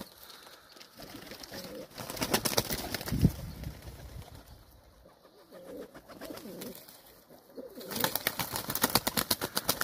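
Racing pigeons are released and take off, producing two bursts of rapid, clattering wingbeats against a quieter outdoor background, with soft cooing in between.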